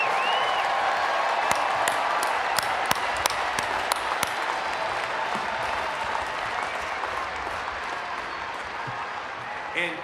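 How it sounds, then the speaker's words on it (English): A commencement ceremony crowd applauds steadily, a dense wash of clapping with a few sharper individual claps, gradually thinning toward the end. "let's have a round of applause for our university police"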